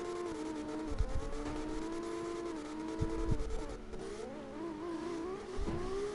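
Nissan GT-R in the CarX Drift Racing video game, its engine revving up and down in wavering, moderately loud tones that rise and fall repeatedly over low rumbling, with no speech.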